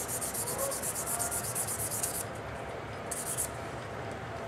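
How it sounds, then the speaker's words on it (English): Light 300-grit sandpaper rubbing against a Glock 20 SF pistol, a steady close scratchy abrasion with brighter hissing strokes early on and again briefly later, no talk. "Let's start off with the light sandpaper, and let's try out the 300 on there and see what happens."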